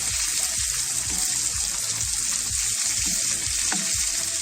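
Prawns and garlic fry in a pan with a loud, continuous sizzle that holds steady throughout, close up and with no one talking.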